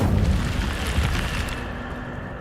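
An Incendio fire spell cast in the video game Hogwarts Legacy gives a loud, sustained roaring blast of flame that rumbles steadily for a couple of seconds with no voices.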